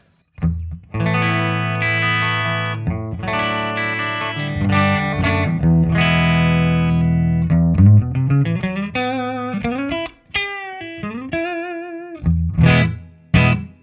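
An electric guitar, a PRS SE on its clean channel through a Marshall DSL100 amplifier, plays chords and then single-note lines. The tone is full and slightly driven, loud and close, with short pauses between phrases.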